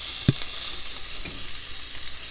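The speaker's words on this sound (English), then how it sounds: "we're going to saute the veggies on low" Chopped vegetables dropped into heated olive oil in a pan for crab stuffed mushrooms, giving one brief thump and a steady soft sizzle that carries on alone.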